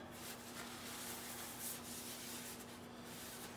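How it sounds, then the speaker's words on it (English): Food-safe finish rubbed by hand onto a wooden cutting board: a continuous close, soft scrubbing and swishing with slight rhythmic surges, alone over a faint steady hum. "And you just rub it on"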